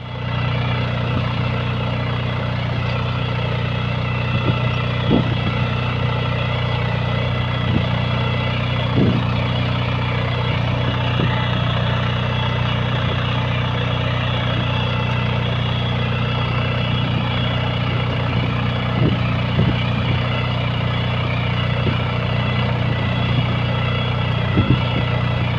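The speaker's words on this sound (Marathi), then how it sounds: "इकडे चालला ट्रॅक्टर" A tractor engine runs steadily while pulling a cultivator, a loud, constant low drone with a fixed throbbing hum and only faint occasional knocks, unchanging for the whole stretch.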